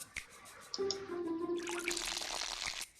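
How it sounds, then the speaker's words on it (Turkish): A plant gets watered in Plants vs Zombies 2: a short chime, then a splashing, pouring rush of water for about two seconds with a faint tonal hum under it, ending abruptly, with no talking. "Suyunu da verelim."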